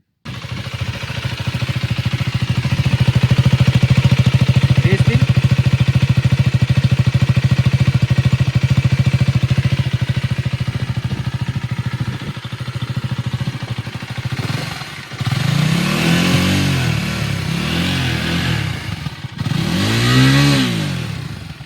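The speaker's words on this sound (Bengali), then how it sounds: "আমি এই KTM 390 অ্যাডভেঞ্চার চালাবো" A 2025 KTM 390 Adventure motorcycle engine runs loud and close, holding a steady high drone before easing off, then rising and falling in several swooping revs near the end.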